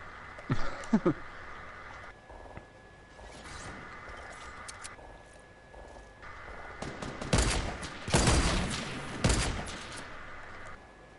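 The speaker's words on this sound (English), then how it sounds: "A bunch of other people are shooting at him, actually. It's mayhem!" Gunfire in the video game Fortnite: a few sharp shots early, then dense bursts of rapid fire and explosions from about seven seconds on, with an electronic tone droning in the background.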